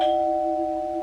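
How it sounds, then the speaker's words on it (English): A doorbell chimes with a clear, steady two-tone ring that holds for about a second before cutting off, loud and close with nothing else around it. "But late that night, Beck's doorbell rang twice."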